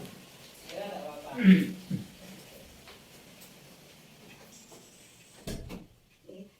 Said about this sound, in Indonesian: saya tutup pintu dulu ya Ibu